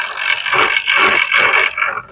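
A vise with soft jaws clamps the nut of a reusable 3-piece AN hose fitting, heard as loud close rhythmic ratcheting rattles and scrapes in repeated bursts with short gaps between them.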